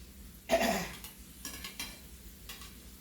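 A second batch of snapper fish fries in hot oil nearby, with one loud hissing burst followed by a few shorter sizzles and utensil clatters.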